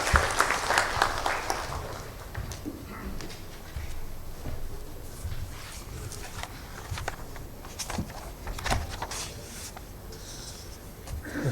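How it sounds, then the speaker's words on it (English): Audience applause at a post-budget conference from the Finance Ministry, loudest at the start and thinning into scattered claps and shuffling, with faint murmuring in the room. "Please give a round of applause to Mr. Ravi Agarwal."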